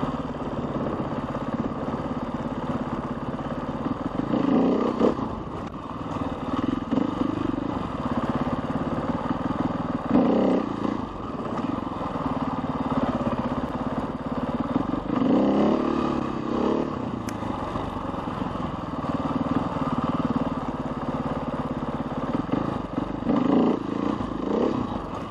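A motorcycle engine idles and gets repeated short throttle blips during slow wheelie practice, the rev bursts coming in rhythmic clusters every few seconds over a steady engine drone.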